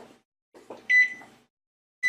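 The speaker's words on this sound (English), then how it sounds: "that was a 1 minute timer" A kitchen timer beeps during home baking of a Dutch apple pie, giving one loud, clear beep and then a second shortly after, close by amid soft kitchen clatter.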